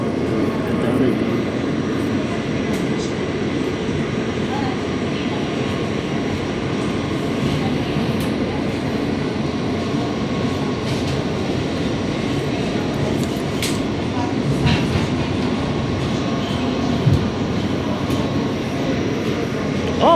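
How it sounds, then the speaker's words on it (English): A New York subway B train rolls along with a continuous rumbling roar of wheels and motors, heard from inside, with scattered clicks and rattles and a voice speaking briefly. "It was a B train."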